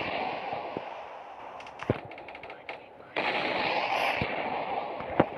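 Gunfire in a video game aimed at a large summoned monster, sounding as a few sharp isolated shots followed by a denser stretch of rapid fire, with an excited voice talking over parts of it.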